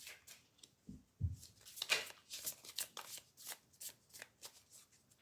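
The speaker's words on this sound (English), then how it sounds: "She's also shuffling the cards right now." Tarot cards being shuffled by hand, a run of quick papery riffles and soft flicks repeating through the stretch, close and fairly quiet with no talk over them.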